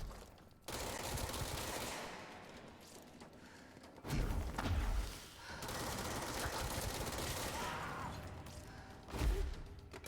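Enemy rocket fire in the video game Control, heavy bursts of loud booming blasts and rapid gunfire-like volleys that surge, ease off, then strike again near the end, with no talking.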